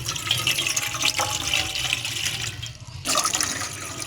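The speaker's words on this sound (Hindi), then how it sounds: "इस ड्रिंक को तैयार करने के लिए हम एक बर्तन लेंगे, उसमें हम 2 कप पानी लेंगे।" Two cups of water pour into a cooking pot, a loud, splashy stream that runs steadily, cuts off briefly near the three-second mark, then resumes. No one speaks.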